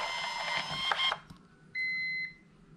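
A Q300 thermal printer printing a shipping label, giving a brief buzzing whir of feeding paper followed by a sustained electronic beep tone, close and clear with no speech.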